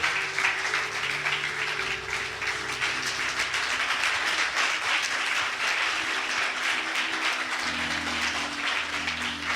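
A church congregation claps together in a dense, continuous burst of applause at steady loudness, with low musical tones underneath.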